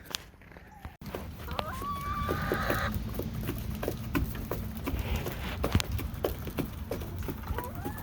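Chickens being herded into a coop on a farm cluck and chirp faintly amid scuffling footsteps and rustling outdoors, with occasional soft human voices in the background.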